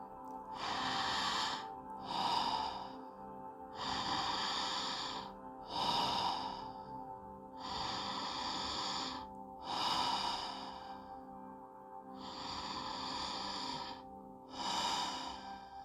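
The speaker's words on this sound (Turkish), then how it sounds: "ağzımı hafifçe açarak uzun ve derin nefesler alıp kısa ve rahat nefes veriyorum" Long, deep breaths drawn through a slightly open mouth during a relaxation meditation, each followed by a short, easy exhale. About eight close, breathy cycles repeat in a steady rhythm, with no talking.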